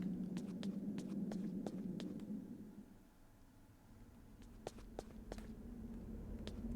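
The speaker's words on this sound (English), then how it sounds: "I was listening for the extra footsteps." Footsteps in the video game Eternal Darkness, a series of faint regular taps over a low steady hum, quiet and without talk.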